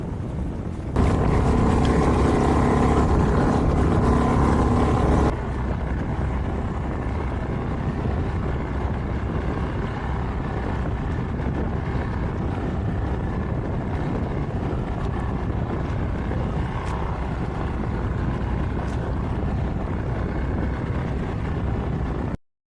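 A steady, loud tourist boat engine drone on open sea water near Wasini, Kenya, with rushing wind and water noise; the first few seconds are harsher and louder.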